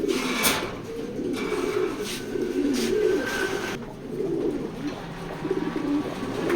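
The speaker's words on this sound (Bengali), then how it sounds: "তো এটা হলো নর ইয়াং কবুতর" A young male racing pigeon gives low, throaty cooing in repeated soft bursts, close by, over light background noise.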